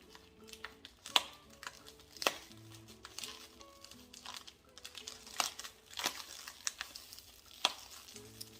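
Scented Christmas bowl filler of pine cones and dried citrus crinkles and rustles as it is handled and poured, with irregular dry crackling bursts and sharper crunchy spikes, close by, over a faint background hum.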